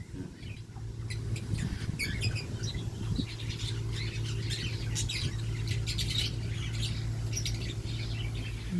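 Sharp squawks and chirps from several parrots burst repeatedly over a constant low hum, busy and close.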